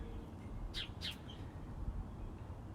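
A few quick high bird chirps, two short bursts close together, over a steady low outdoor rumble; fairly faint and no voices.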